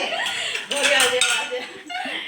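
Dishes, pots and cutlery clattering and clinking as they are washed by hand in a home, with a quick tapping rhythm, close and fairly loud, under some laughter and voices.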